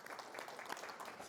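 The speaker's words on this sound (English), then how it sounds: "Maybe just a quick round of applause for the newest producer of silver." A quick round of audience applause at a silver mining panel discussion, a short, faint, even patter of clapping hands heard from a distance.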